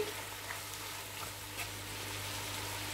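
Chicken sautéing in a pan for pulao, giving a soft, steady frying sizzle with a couple of faint stirring touches, quiet and close with no voices.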